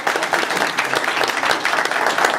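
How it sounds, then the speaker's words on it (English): Audience at a corporate awards ceremony breaking into steady applause, a dense, continuous wash of many hands clapping close and loud throughout. "With a round of applause, can I have your commitment?"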